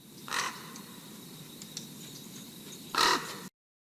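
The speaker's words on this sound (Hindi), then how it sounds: "कुछ समय बाद एक विचित्र कौवा उड़कर उसके पास आ पहुंचा।" In an illustrated story, a strange golden-winged, silver-beaked crow gives two loud, harsh caws about two and a half seconds apart. A steady background of faint croaking fills the gaps, then everything cuts to silence.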